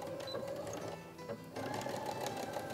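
A sewing machine stitches the crotch seam of a pair of shorts with a 3/8 inch seam allowance, a fast, steady mechanical whir with a brief slowdown near the middle before resuming, close and moderately quiet.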